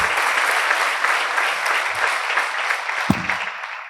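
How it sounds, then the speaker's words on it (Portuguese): An audience at a live talk event gives a sustained round of applause that stays steady and dense for the whole stretch, with no voices heard over it. "o Bruno Lavrador, uma grande salva de palmas"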